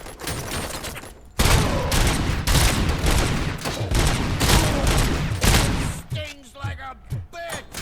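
Sustained rapid gunfire in RoboCop: Rogue City, dense volleys of close shots running for several seconds after a brief quiet, then thinning into scattered shots while someone talks over it.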